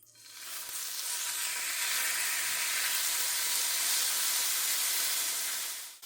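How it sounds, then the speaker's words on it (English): Avocado oil spray hitting a very hot pan after stir-fry vegetables were removed, bursting into a loud, continuous broadband sizzle that swells quickly and holds steady for several seconds before cutting off, close up with no talking. "I'm spraying it now with some avocado oil spray"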